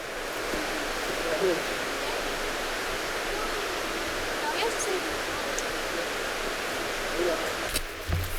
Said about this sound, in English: that was Cathy's Creek Falls down there